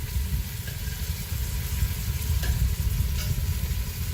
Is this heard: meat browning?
yes